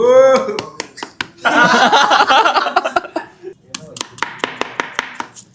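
A knife chops onions on a board in a student hostel kitchen: a brief voice at the start, then a quick dense burst of chopping, followed by sharp, evenly spaced single cuts close by.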